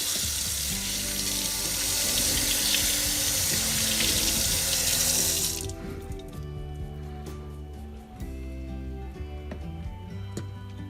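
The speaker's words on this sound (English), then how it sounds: "we're still going to go rinse it just a little bit" Food is rinsed under a kitchen tap for corn salsa, a steady loud hiss of running water that stops abruptly about halfway through and gives way to quieter handling noises.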